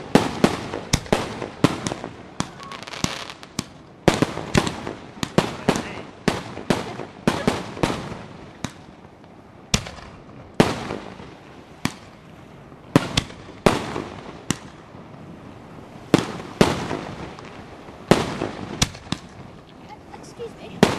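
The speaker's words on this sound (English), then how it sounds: "this is what we do on fireworks night," Fireworks going off on a fireworks night in Tioman: a long run of loud, close, sharp bangs and crackling bursts in irregular clusters, barely pausing between volleys, with faint voices in the background.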